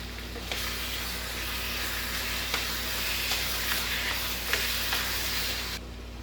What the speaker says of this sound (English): I'm ever so often going to stir it around to get it mixed really well